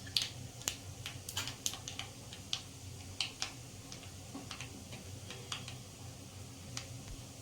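Mustard seeds crackle in hot oil while tempering dhokla on a gas stove, giving quiet, irregular sharp pops and ticks spread through the whole stretch.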